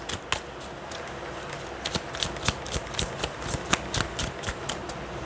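Tarot cards are shuffled and drawn by hand, a close, quiet run of crisp riffling snaps and flicks coming in uneven bursts for several seconds.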